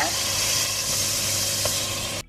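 Eggs hitting hot sesame oil with fragrant garlic in a wok, a loud, steady sizzle and hiss that holds evenly and then cuts off abruptly near the end.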